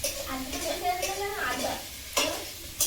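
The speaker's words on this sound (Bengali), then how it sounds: "চিংড়ি মাছগুলো ভেজে নেব।" Prawns frying in hot oil in a home kitchen, with bursts of sizzling and stirring scrapes plus a couple of sharp pan knocks, under faint voices nearby.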